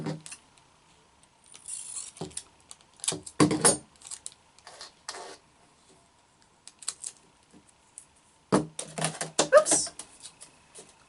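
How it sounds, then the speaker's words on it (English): Tape being pulled and torn off a roll while making a paper kaleidoscope craft, heard as several short, scattered ripping and crinkling bursts separated by quiet gaps, close up with no talking. "it looks like I do need another piece of tape"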